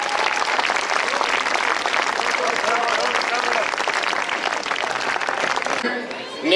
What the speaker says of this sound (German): bitte ich Sie, lieber Applaus für dieses Trio